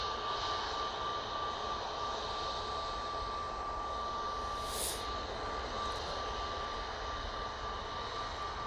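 A Pegasus airliner arriving from Istanbul gives off a steady, distant jet engine roar with a thin sustained whine that holds evenly throughout, heard alone without talk.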